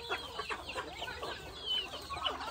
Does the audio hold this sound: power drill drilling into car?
no